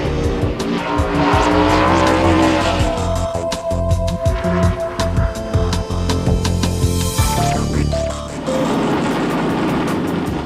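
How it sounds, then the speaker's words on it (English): A new COT NASCAR race car is test-driven on a track in Lakeland, Florida, its engine roaring loudly and steadily throughout, with tires squealing briefly near the end. "a special team has come south to Florida, with Michael Waltrip doing the driving to do some winter testing and continue to develop this totally new race car"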